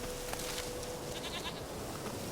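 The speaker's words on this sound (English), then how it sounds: "Okay, now what is that hiking goat?" A goat bleats in The Witcher 3, a short faint bleat heard over a steady, quiet game ambience with no talk.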